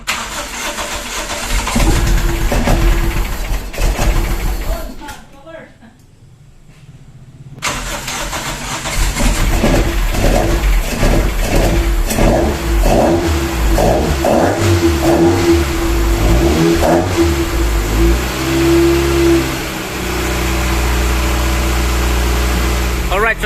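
A Toyota Corolla 4AGE 20V engine, just back from service maintenance, is heard cranking briefly, falling silent, then catching and settling into a rough idle broken by a series of sharp revs before idling again.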